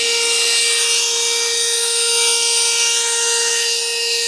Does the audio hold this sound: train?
no